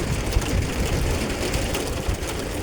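Steady rain falls outside a window, a constant dense hiss with a low rumbling undertone, unbroken and fairly loud, with no voices.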